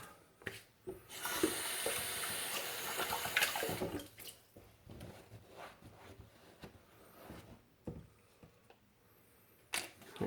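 Tap water runs onto a badger shaving brush at a bathroom sink, a steady splashing stream for a few seconds followed by scattered clicks and handling knocks, close and fairly quiet.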